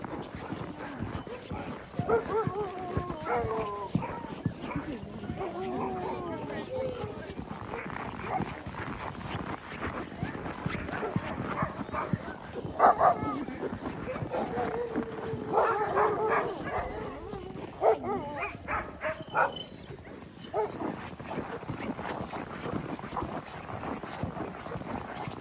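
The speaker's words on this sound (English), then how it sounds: "Dogs." Many sled dogs bark and yip excitedly in a noisy outdoor chorus near Whitehorse, some close and others farther off, with people talking now and then.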